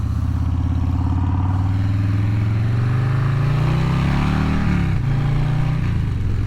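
A motorcycle engine on a test ride, with a loud, steady drone that climbs gradually in pitch as it revs up, then drops briefly near the end before holding again, with wind noise alongside.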